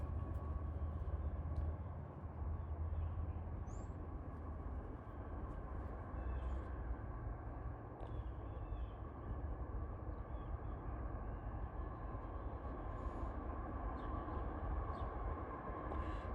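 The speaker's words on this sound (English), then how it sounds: "And here comes our train." A freight train approaches in the open near Hanson, Kentucky, with a steady low rumble that holds throughout and fills the background at moderate loudness, with no voices.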